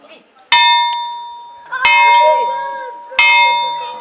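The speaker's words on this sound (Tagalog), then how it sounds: "Sa hudyat ng bakal na ito o makeshift bell, magsisimula ng magturo sa klase ang tatlong guro" A piece of iron serving as a makeshift school bell at a rural school in Leyte is struck three times, each loud metallic clang ringing out with a long, bright, sustained decay.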